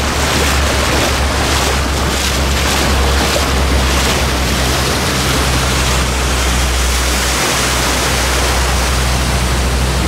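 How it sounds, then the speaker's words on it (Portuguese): A truck pushes through floodwater in a flooded street in Vila Prudente and throws up a wave. Loud, dense rushing and sloshing of water fills the whole clip, with a low rumble underneath and no voices. "E quando o caminhão passa, forma uma onda."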